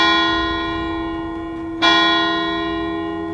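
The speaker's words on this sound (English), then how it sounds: "These bells have been ringing for 1700 years." A church bell rings loud and alone, its deep humming tone decaying slowly before a fresh strike midway renews the resonant clang.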